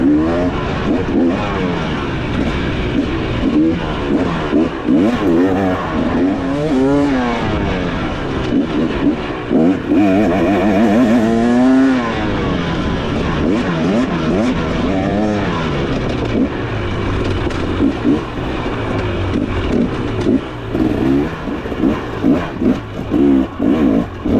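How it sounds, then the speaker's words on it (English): A 2023 KTM 300SX two-stroke dirt bike rides a trail, its engine revving and droning loudly and continuously throughout, with pitch rising and falling as the rider works the throttle. "Looks like Alan's having a good time on my bike"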